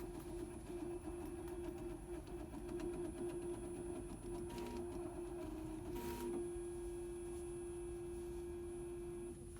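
Embroidery machine running a trace on a small tool bag, with a steady mechanical whir and a sustained tonal hum, faint and continuous, plus a few brief shifts in pitch.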